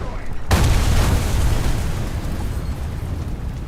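A loud explosion in War Thunder, a tank and ground-vehicle combat game: a sudden heavy boom that rolls into a long, rumbling roar and fades slowly without dropping away.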